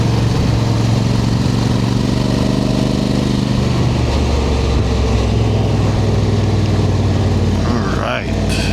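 A 2025 Honda Africa Twin Adventure Sports ES DCT motorcycle drones steadily while riding, a constant near engine rumble mixed with wind noise. A rider talks over it throughout.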